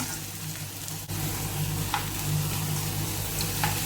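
Sliced onions sautéing in a pan for a fish roast, a steady close sizzle with occasional stirring scrapes and no voices.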